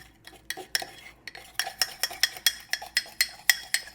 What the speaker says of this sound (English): We're going to stir until we form like a little dough, a little cake mix.